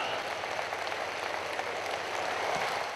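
A large hall audience at a Pakistani government laptop scheme launch ceremony claps in dense, continuous applause, heard at a moderate distance without voices.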